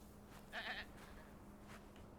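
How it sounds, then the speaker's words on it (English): A single short goat bleat in a video game rises briefly over a quiet, steady background hum. "Goats."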